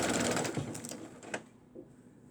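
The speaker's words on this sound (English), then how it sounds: "And then I'm just going to continue sewing that across." A sewing machine stitching fabric for a scrap quilt runs in a short quiet burst of rapid mechanical whirring that stops after about a second and a half, leaving a few faint clicks and handling sounds; no voices.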